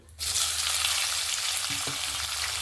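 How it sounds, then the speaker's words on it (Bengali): Thinly sliced coconut dropped into hot oil bursts into a loud, dense, continuous sizzle that holds steady, with a couple of faint taps from the pan near the end. "এবার আমি ভেজে নেব নারকেল।"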